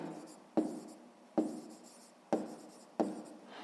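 A pen writes down a maths answer on paper, four short scratchy bursts in a regular rhythm, each starting with a sharp tap and trailing off, close and quiet with no talk.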